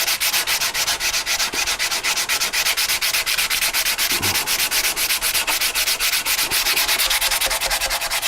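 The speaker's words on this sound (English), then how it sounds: "I'll go over it with the 80 grit, take it down to level. You see it's making lots of dust here." Cured polyester resin is sanded by hand with 80 grit sandpaper, giving a close, steady, rhythmic scratching of rapid back-and-forth strokes that continues without a break.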